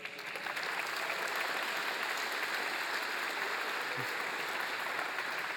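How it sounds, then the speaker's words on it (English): An audience claps for a volunteer called up to draw prizes at a closing keynote of a Java developer conference, a steady, dense wash of applause that holds evenly from start to finish. "A round of applause for Maria, please."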